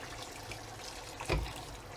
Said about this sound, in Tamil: இதில் இனி தண்ணி ஊற்றிடணும்.